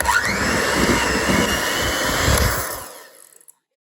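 An electric mixer whirs loudly and steadily through cake batter, then cuts off and winds down into silence.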